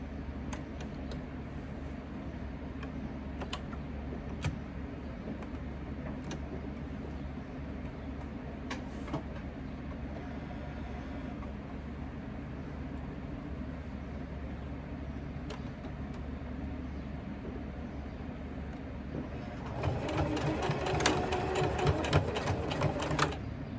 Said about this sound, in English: we definitely want to make sure that we backstitch the end